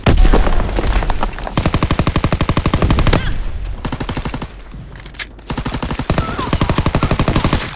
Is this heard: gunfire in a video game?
yes